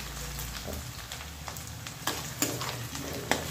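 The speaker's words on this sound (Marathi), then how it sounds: "हे बघा कांदा असा छान मस्त फ्राय झाला आहे." Onions frying in a pan for chana masala, a constant bright sizzle with a low rumble beneath and a few distinct clacks of a stirring spoon near the end, close and alone.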